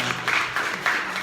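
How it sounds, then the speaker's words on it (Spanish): A wedding crowd bursts into applause for newlyweds, a short burst of dense clapping swelling in waves, fairly close and loud, with no voices over it. "Un aplauso a los recién casados."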